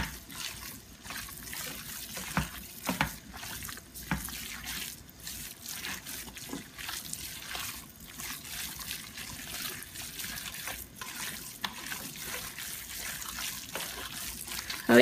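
Water is poured into a plate while chhundo is being made, a soft irregular trickle and drip close by, fairly quiet, with faint speech in the background.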